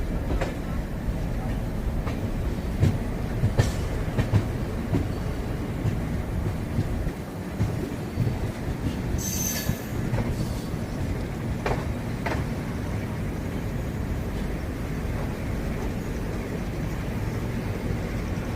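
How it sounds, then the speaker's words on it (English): Diesel-hauled small passenger train running on rails toward Rewari junction in India, heard as a steady low rumble with faint intermittent clicks of wheels on rail joints throughout, fairly close and continuous. "you can see the diesel engine traveling towards the Rewari junction"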